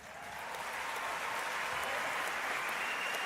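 Audience at an environmental prize ceremony applauding, a steady, fairly faint wash of clapping that swells slightly and holds.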